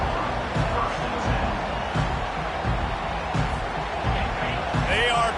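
A Madden football stadium crowd rumbles with continuous noise and babble while the home team is pinned deep, with a commentator talking over it.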